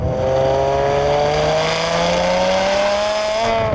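Ferrari 599 GTB with a manual gearbox accelerating hard, its engine note climbing steadily and loudly through a single sustained pull, heard close from inside the car.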